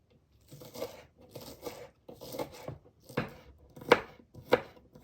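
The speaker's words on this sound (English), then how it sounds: "Now I'm going to cut up the end part of the green onions." A knife chops green onions on a cutting board in a series of close, crisp cuts, starting in loose clusters and turning into sharper single strokes.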